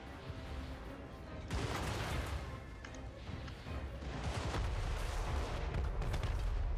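Ranged units shooting during a Total War: Warhammer III battle give a dense, continuous wash of volleys and crashing impacts that swells and fades. The roar is fairly quiet overall and sustained, with no clear single shots.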